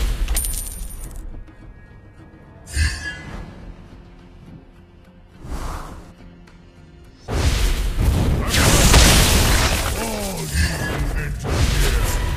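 A turret is destroyed in the Mobile Legends game, heard as a burst of loud crashing, booming in-game effects after several quieter thumps and chimes, with a game announcer voice mixed in.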